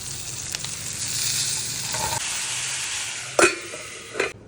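Tomato puree added to a hot pan of tempering with turmeric, salt and chilli for rasam, a steady close sizzle softening through the middle, then two sharp knocks of a utensil near the end, no voices.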